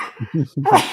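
A single loud, close sneeze bursts out in a sudden explosive rush after a short breathy build-up, with no one talking during it.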